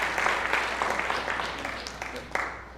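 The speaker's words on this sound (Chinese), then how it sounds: "我们来拍手接纳他们已经被我们的受证跟的完成" A church congregation at a Sunday service claps to welcome disciples, a continuous patter of many hands that rises with a few louder, sharper claps standing out.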